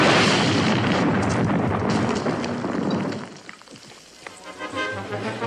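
A grenade going off in the comedy series McHale's Navy. A loud, rumbling blast fills the first three seconds, then fades into scattered debris and crackling, with no voices.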